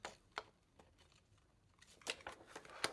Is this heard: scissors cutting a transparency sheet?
yes